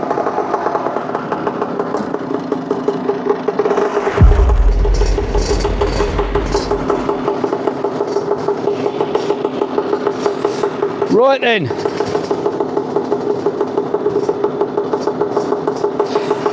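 A motorcycle engine runs steadily before a ride. The close, continuous rumbling idle is under wind buffeting, with a rev-like sweep partway through, and someone speaks briefly.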